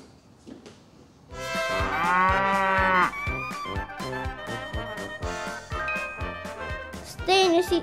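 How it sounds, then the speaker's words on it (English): A cow moos loudly and close by in a long, drawn-out call that shifts in pitch, followed by more lowing, with a brief faint sound before it begins. "What kind of animal does that remind you of? A cow."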